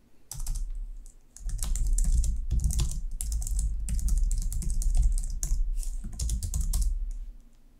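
Rapid, steady clatter of keys as code is typed on a computer keyboard for a C# chess game program, close and continuous with brief pauses, no voices.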